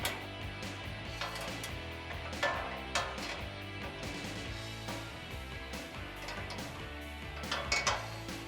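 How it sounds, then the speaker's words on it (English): Sharp metallic clinks and scrapes from a 14 mm wrench tightening a nut on an LED fog light in a Barricade Extreme HD front bumper on a 2018 Ford F-150, in irregular bursts over a steady background hum. "we're going to use a 14 millimeter wrench to tighten that nut up"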